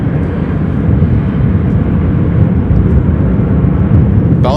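An airliner touching down hard and bouncing back into the air at Chicago O'Hare makes a loud, continuous jet roar that holds steady from start to finish.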